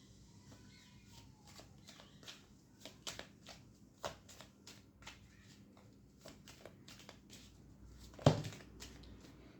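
Tarot cards are shuffled by hand in soft, quiet riffles and taps, ending with one louder rustling snap near the end. There is no talking.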